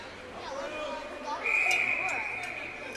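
A referee's whistle shrills sharply through a busy indoor youth ringette game, sustained for about a second amid crowd noise and players calling out.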